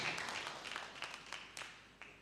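A church congregation applauding, a brief burst of scattered clapping that fades within a couple of seconds.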